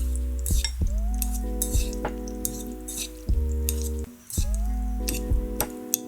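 Noodles being tossed through sauce in a bowl, with repeated light utensil clinks and soft squishy taps over steady background music.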